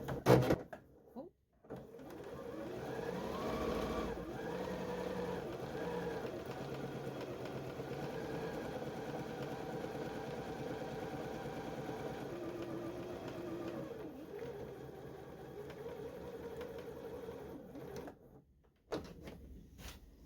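A Janome JW8100 sewing machine runs fabric through with no thread, a steady mechanical hum and needle chatter lasting about sixteen seconds between brief handling noises, fairly quiet and close.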